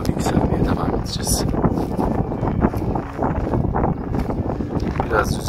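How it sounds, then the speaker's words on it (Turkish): Wind buffets the microphone high on a mountain ridge in Niğde, a continuous loud rumbling gust noise with people talking underneath. "Biraz rüzgar var."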